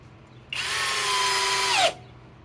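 A Flex compact hammer drill with a 3.5 stacked lithium battery drives a 4-inch timber lock screw into wood: one steady, loud, whining run of about one and a half seconds that bogs down slightly at the end, then stops.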